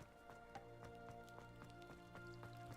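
Rain pattering steadily on surfaces in the video game Hogwarts Legacy, a soft continuous wash of drops under a game music bed, with faint periodic ticks.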